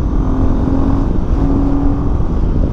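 A Royal Enfield Himalayan 450 motorcycle accelerating hard, its engine a steady loud drone with a rising tone throughout, close and continuous with no talking.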